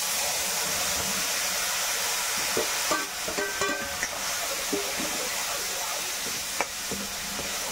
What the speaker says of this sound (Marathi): चांगला परतून घ्यायचा.